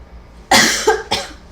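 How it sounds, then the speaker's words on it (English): A woman coughs, one harsh cough followed by a second shorter one, close and fairly loud in a quiet room. "I keep coughing in my hand."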